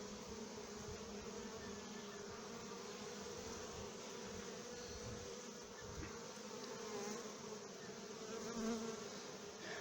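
Honeybees swarm around their hive after two colonies are combined, a steady dense buzz of many wings close by, continuous and even with a slight swell near the end, with no voices.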